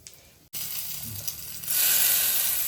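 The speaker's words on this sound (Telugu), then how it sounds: "2-3 కరివేపాకు రెబ్బలు మంచిగా ఇవి ఆయిల్లో ఇది కొంచెం వేగాలి, కలర్ చేంజ్ కావాలి." Curry leaves drop into hot oil and a sudden loud sizzle erupts, growing stronger and more hissing as they fry, close and continuous.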